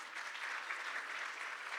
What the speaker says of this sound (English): we will clap for all of them